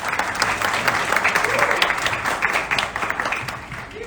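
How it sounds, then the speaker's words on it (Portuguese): At a condominium managers' event, a crowd bursts into sustained, dense applause heard up close for the full few seconds, with faint voices mixed in beneath the clapping. "Uma salva de palmas para ela."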